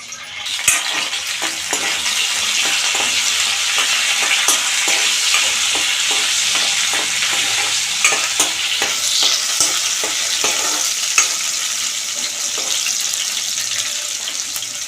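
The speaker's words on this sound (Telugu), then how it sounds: "వేడెక్కింది పోపులు అయితే వేసుకుంటున్నాం" Hot oil sizzles and crackles steadily and loudly as tempering spices fry, with small pops and occasional clinks of a spoon stirring close by.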